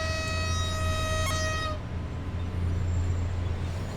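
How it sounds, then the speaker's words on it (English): A train horn honks in the SimRail railway simulator: one long, loud, steady multi-tone blast lasting under two seconds that cuts off abruptly, leaving a low engine rumble. "I'm just gonna honk at it."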